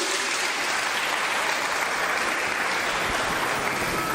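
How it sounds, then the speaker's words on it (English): An audience gives sustained, even applause, a dense wash of many hands clapping that holds steady throughout without talk over it. "that's our weak applause"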